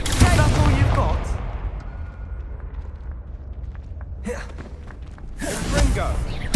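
In Hogwarts Legacy, a fire spell bursts loudly at the start, followed by a low rumbling fade and two further sharp blasts, with brief vocal sounds in between.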